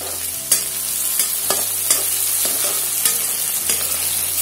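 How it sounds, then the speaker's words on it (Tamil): Onions sautéing in a pan after mustard seeds have popped: steady sizzle with repeated scraping stir strokes roughly every second, close and continuous, no voices. "கடுகு வெடிச்சதும் நம்ம வெங்காயத்தை வதக்கிக்கலாம்"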